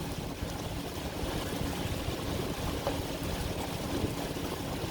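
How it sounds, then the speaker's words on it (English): A boat motor on the Mississippi River drones with a steady low rumble throughout, mixed with broadband wash of wind and water, with no talking. "The motor's running, pushing it to the bank."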